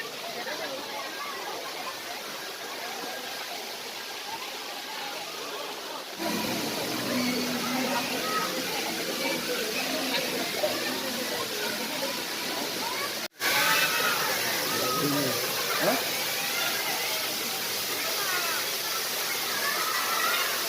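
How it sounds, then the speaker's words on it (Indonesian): Waterfall at Dlundung campground: a steady, full broadband roar of falling water that continues throughout, close and constant, with a busy crowd's voices blended in the background. "Udah nyampe di air terjun. Itu air terjunnya di depan."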